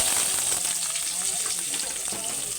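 White onion frying in a pan, a constant close bubbling sizzle that stays even throughout.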